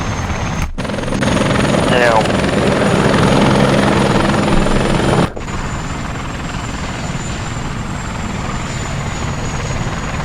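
A helicopter in the Arma 3 video game roars loudly and steadily at close range, with a thick rotor and engine drone. A sharp cut partway through leaves it slightly quieter, and no talk stands out.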